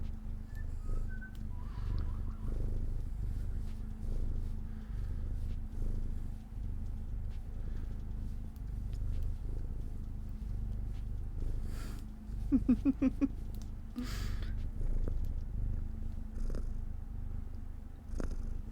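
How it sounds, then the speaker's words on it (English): A contented cat purrs in a steady low rumble that runs throughout, close and continuous, with a few brief clicks and rustles over it. "Can you hear his purring?"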